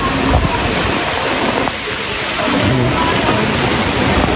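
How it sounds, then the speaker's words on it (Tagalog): Heavy typhoon rain pours steadily and loudly, a dense continuous roar with no pauses. "Dire-diretso yung ulan. Walang hinto yung ulan."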